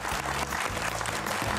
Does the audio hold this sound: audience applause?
yes